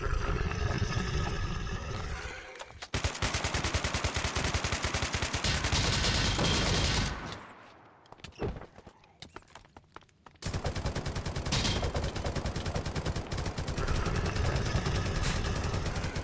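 Sustained automatic gunfire in the Minecraft modpack DeceasedCraft, a loud rapid rattle that runs for several seconds, breaks into a quieter stretch with a few scattered shots, then resumes as another long continuous burst.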